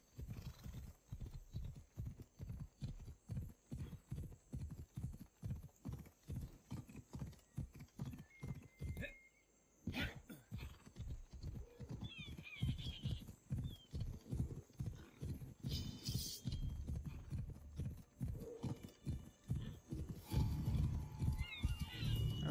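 Fobos, a horse in Assassin's Creed Odyssey, gallops with rapid, rhythmic hoofbeats that run nearly the whole time, a brief gap near the middle, and occasional whinnies and faint game effects layered over the steady pounding.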